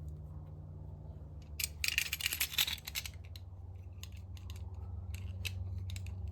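Scissors snip stretched TPU 3D printer filament in a quiet room. A burst of crisp cuts comes first, then scattered lighter clicks and snips, all close up with no talking.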